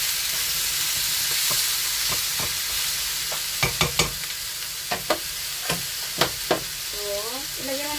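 Pork belly sizzling and frying steadily in a pan, a constant crackling hiss close by with several sharp utensil clinks and scrapes against the pan partway through, and faint voices at the end.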